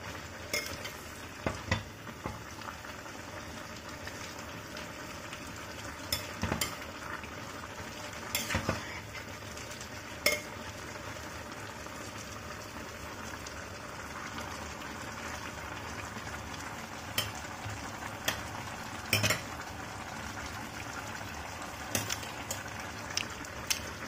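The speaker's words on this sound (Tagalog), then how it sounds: "kumukulo-kulo na" Vegetables simmering in coconut milk for ginataang gulay, a soft steady bubbling and sizzle in a pot, with occasional clinks of a utensil against the pan and no talking.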